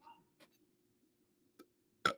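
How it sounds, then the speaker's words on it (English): One short, throaty burp comes near the end of a quiet stretch, after a few faint clicks and small mouth noises. "I had to burp there"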